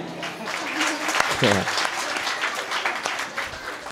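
Audience applause at a Bailpola festival kirtan, a dense steady wash of many hands clapping through the whole stretch, with a voice briefly speaking over it partway through.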